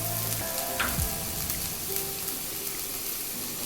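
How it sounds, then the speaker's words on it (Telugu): Bitter gourd and onions fry over a low flame, a soft continuous sizzle close by with a brief stir or scrape early on, otherwise even and unbroken with no talking. "ఒక కప్పు కాకరకాయలు, ఒక కప్పు ఉల్లిపాయలు, ఇవన్నీ లో ఫ్లేమ్లో వేయించుకోవాలండి"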